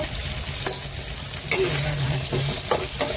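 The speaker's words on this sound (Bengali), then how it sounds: "আলু আর ফুলকপিটাকে একসাথে ভাজা করে নেব।" Potato and cauliflower pieces fry together in a wok for khichuri, a close steady sizzle with intermittent clanks and scrapes of a spatula stirring, plus a brief low hum partway through.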